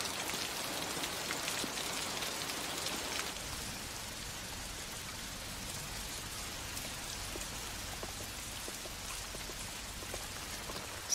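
Heavy rain pours steadily, a dense close hiss of drops that is loudest for the first few seconds and then eases slightly but keeps up throughout with no speech.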